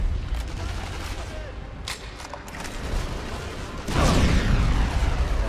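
Gunfire in Sniper Elite V2, with a tank nearby: scattered sharp shots and clanks over a rumbling battlefield bed, then a heavy loud blast that leaves a sustained roar.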